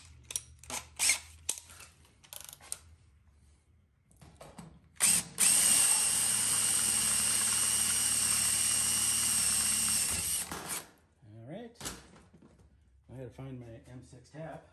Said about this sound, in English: Now I have a drill for an M6 tap.